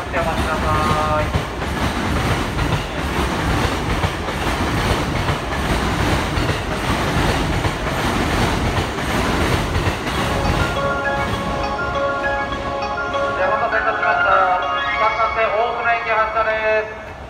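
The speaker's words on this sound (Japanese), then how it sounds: "3番線から大船行き、まもなく発車いたします" A train bound for Ofuna departs platform 3 at Shinagawa Station, rumbling and clattering steadily along the rails, its wheels clicking beneath a loud, continuous roar, with muffled voices mixed in.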